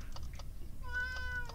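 A single drawn-out cat meow, fairly close, over faint clicking taps in the background.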